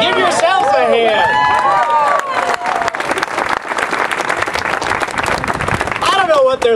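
A large crowd at a religious freedom rally claps loudly and continuously, the dense applause filling the space for several seconds alongside some cheering and whistling.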